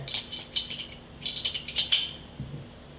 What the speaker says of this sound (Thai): เราก็ใส่ลำกล้องของเราเรียบร้อย